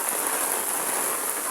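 Torrential rain from Typhoon Carina over flooded Metro Manila streets, a loud, unbroken wash of drops pounding nearby surfaces throughout.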